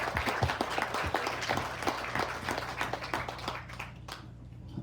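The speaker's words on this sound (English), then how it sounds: "Let's give a round of applause for Danny." Audience applause at a police mental health retreat, a dense wash of clapping from a crowd that carries steadily for nearly five seconds before tapering off slightly at the end.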